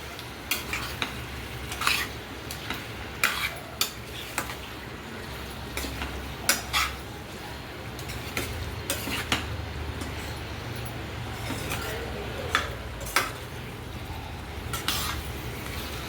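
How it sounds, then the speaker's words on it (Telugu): Chicken seasoned with salt and turmeric gets stirred into onions in a pan, a spoon scraping and clinking against the metal in irregular strokes over a soft, steady sizzle, with no voices. "ఆల్రెడీ మనం ఇందాక ఉప్పు పసుపు అన్నీ కలిపి పెట్టుకున్న చికెన్ ఉంది కదా, దాన్ని అయితే దీంట్లో వేస్తున్నాను. వేసి బాగా కలుపుకొని"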